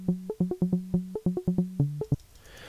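A synth arpeggio with a filtered, short-decay envelope plays a quick, plucky rising-and-falling note pattern of about fifteen tight notes. It ends in a soft wash of noise.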